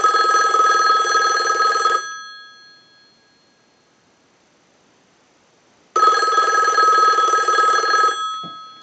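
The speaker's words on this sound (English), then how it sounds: "we'll use the analyzer and ring this telephone" A Western Electric 500 rotary telephone's bell rings loud and close in two long bursts, each about two seconds, separated by a silent pause.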